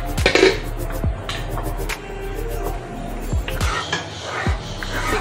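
Moong dal tadka being dished out of a pan, repeated clinks and knocks of a utensil against dishes, scraping and a steady low background hum, fairly close.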